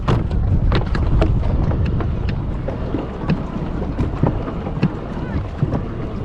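Strong wind buffets the microphone outdoors on the water during a pedal-drive fishing kayak test, with a constant low rumble, and sharp gusts and knocks come and go throughout.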